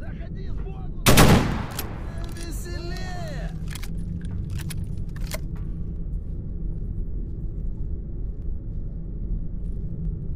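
Gunfire in the space shooter Star Citizen: a loud, sharp blast stands out, then a scatter of quieter shots and metallic clicks over a low rumbling engine drone, with people talking underneath.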